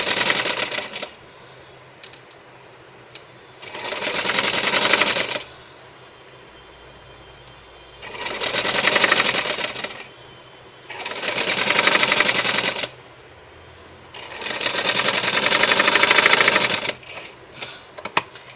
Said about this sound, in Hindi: आधा इंच का मार्जिन छोड़ के हम इसको सिल देंगे।